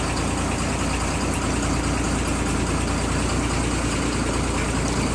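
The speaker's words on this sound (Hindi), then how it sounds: "तो ये जो गाड़ी है ये स्टार्ट हो गई है" A car engine idling steadily just after starting, a close, even mechanical hum with a faint ticking rhythm running unbroken throughout.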